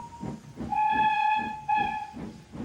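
Thomas the Tank Engine sounds his steam whistle in two clear toots, the second shorter, over a soft rhythmic chuffing of the engine.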